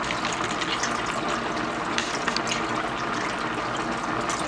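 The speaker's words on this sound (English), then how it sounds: "gonna add 2 cans of carnation milk" Canned Carnation evaporated milk, two cans, poured into a cooking pot for Bajan macaroni pie, a steady rushing liquid pour that runs continuously and fairly loud throughout, with no talking.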